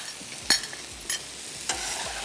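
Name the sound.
stirring spices in a cooking pan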